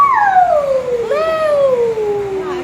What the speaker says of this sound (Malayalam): നല്ല അടിപൊളി ക്യാറ്റ്സിനെ ഇവിടെ ഇട്ടിട്ടുണ്ട്.